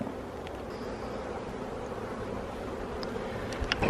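Honey bees hum from an open hive during a June nuc transfer, a dense, continuous buzz close by with occasional louder individual bees passing near.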